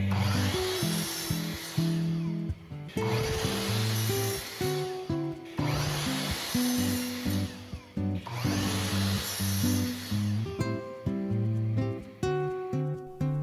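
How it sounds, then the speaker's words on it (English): A power saw cuts wooden support boards for a freezer cold plunge, running loud and close in four long passes of steady whining buzz with brief pauses between, then a rougher rattling stretch at the end. "The freezer will have to hold a lot of weight, so I cut some support boards."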